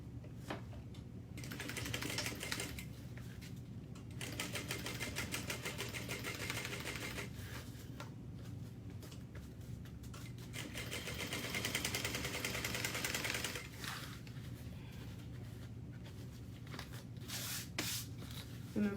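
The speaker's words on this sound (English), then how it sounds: "we're gonna top stitch, just like before, at 1/8 of an inch" A sewing machine runs in long steady bursts while top stitching a bag at an eighth of an inch with a long stitch length, its close mechanical whir stopping and restarting several times.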